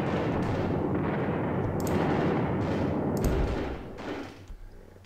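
Heavy artillery and gunfire from the wargame Advance of the Reich roar loud and dense, with repeated booming blasts and sharp cracks layered over a continuous rumble that thins out near the end.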